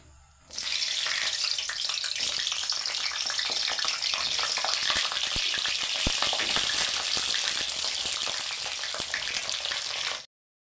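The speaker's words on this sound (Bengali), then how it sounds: "এবার পটলগুলো তেলের মধ্যে ছেড়ে দিচ্ছি" Chopped pointed gourds drop into hot mustard oil in a wok and set off a loud, steady, close sizzle that holds for about ten seconds, with faint clinks and pops scattered through it. No one speaks over the frying.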